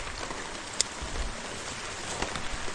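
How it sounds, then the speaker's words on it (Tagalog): Rain falls steadily over a cucumber field during harvest, a soft continuous patter of drops with a brief sharp tick, heard alone without talk. "Basa na po tayo ng ulan."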